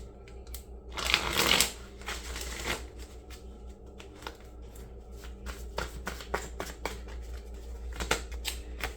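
A deck of tarot cards is shuffled by hand, starting with a loud, crisp riffling burst, then settling into softer, scattered slaps and rustles of cards being handled, with no voices.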